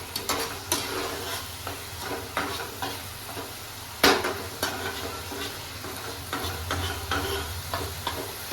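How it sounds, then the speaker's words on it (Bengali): Spice paste frying with a splash of water in a covered pan for a yogurt katla fish curry, a steady close sizzle with intermittent stirring scrapes and one louder clatter partway through. "মশলাটা একটু ঢাকা দিয়ে একটু কষলে মশলাটা ভালো কষা হয়"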